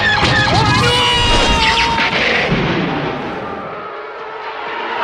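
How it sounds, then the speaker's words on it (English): A loud explosion rumbles and crashes in a Star Wars themed battle, with whooshing and screeching effects layered over it. The blast fades into a dull, low roar. "I'm gonna launch my torpedo in 3, 2..."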